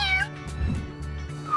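A cat meows loudly and repeatedly with a drawn-out, wavering call, close and clear with no talking over it, in a French cartoon-style scene.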